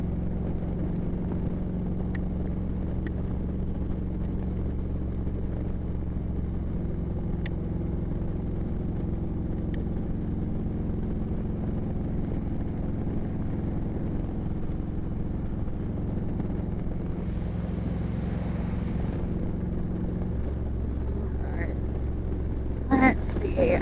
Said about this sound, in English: Ride a motorcycle with me.